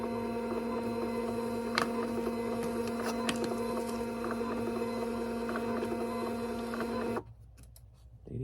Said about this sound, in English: on the right printer, print.